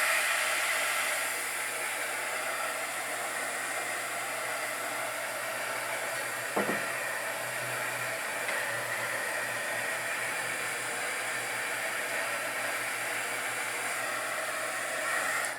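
Heat tool or hair dryer drying paint on a craft project, a loud, continuous airy roar that holds steady throughout and cuts off at the end, with no voices.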